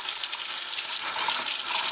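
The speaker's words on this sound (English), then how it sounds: "I'm going to run some really hot water just right along it for a few seconds" Hot water runs steadily from a kitchen tap over pike roe, a continuous close hiss and splash of flowing water with no talking.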